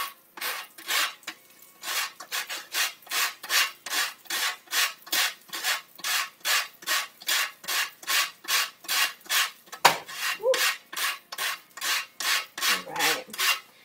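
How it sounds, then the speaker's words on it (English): Chaga mushroom is rasped against a cheese grater in steady back-and-forth strokes, about two per second, close and even throughout. "I'm going to use this end on my cheese grater, and I'm just going to literally grind it into it."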